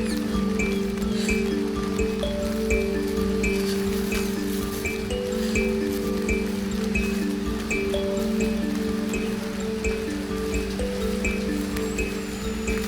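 Steady rain falls with water flowing at Robber's Cave near Dehradun, a constant close hiss and rush over the full stretch, overlaid by a sustained droning tone.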